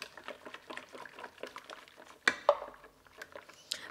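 Heavy whipping cream pours into a Ninja Foodi pot for homemade eggnog. A soft liquid trickle runs under light clinks and taps of utensils and cookware, with a couple of sharper knocks partway through.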